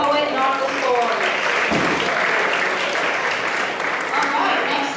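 An audience at a school spoken word poetry finals for grades 9 and 10 applauds steadily, a dense, continuous wash of clapping that holds at full strength for the whole stretch with a few voices mixed in.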